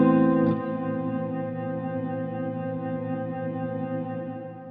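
A Strymon Nightsky reverb pedal holds a sustained wash of reverb after a single struck note, the tone lingering steadily and slowly fading over several seconds, close and alone.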